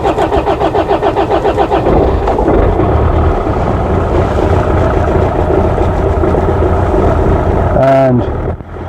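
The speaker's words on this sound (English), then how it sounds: "we hear a very lumpy engine." A Land Rover Freelander TD4 diesel engine turns over and settles into a rough, lumpy idle, loud and close, with uneven pulsing throughout and a brief change near the end.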